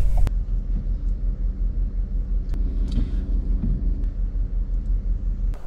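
A 2022 Toyota RAV4 Prime XSE moves through city traffic, heard from inside the cabin as a steady low road rumble with a few faint knocks and clicks.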